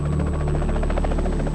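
Helicopter hovering during a peacekeeping operation in Bosnia, with a loud continuous rotor thrum and a pulsing beat that stays steady and close throughout, no speech.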